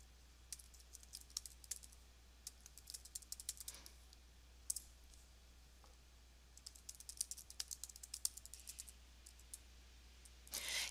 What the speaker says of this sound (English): So I'm going to go ahead and type it out.